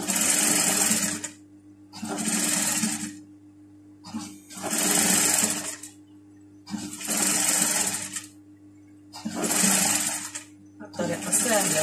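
A sewing machine stitches pajama fabric in five or six whirring bursts, each a couple of seconds long, separated by short pauses. A voice speaks during the gaps.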